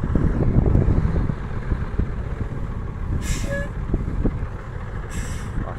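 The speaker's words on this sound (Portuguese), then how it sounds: "Chegou outro. Esse caminhão longo." A long truck arrives at a rural artesian well drilling site, its engine rumbling steadily with two short bursts of air-brake hiss and a brief horn-like toot.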